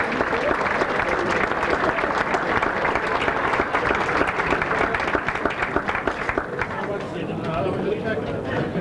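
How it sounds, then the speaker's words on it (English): Banquet audience at a sports hall of fame dinner breaking into a sustained round of applause, dense steady clapping throughout with a murmur of crowd voices mixed in. "I'd like them all to stand up and give them a round of applause."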